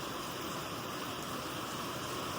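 Heavy rain pours steadily near a hill temple in Matheran, a dense, constant hiss with no pauses and no voices.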